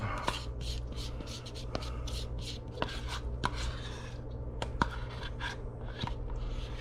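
A tablespoon scraping grilled fat into sour cream, repeated soft scraping and rubbing strokes with small taps, close and steady against a low background hum.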